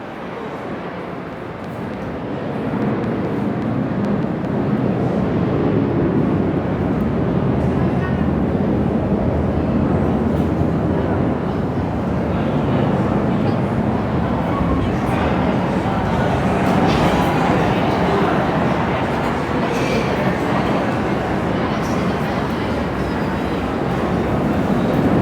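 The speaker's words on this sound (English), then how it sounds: "so many aeroplanes." A jet airplane passes overhead, a loud and sustained broadband roar that swells in the first few seconds and holds steady for the rest of the stretch.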